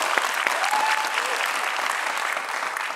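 Applause from a studio audience on an entertainment talk show, a dense sustained clapping crowd with a faint voice briefly audible beneath.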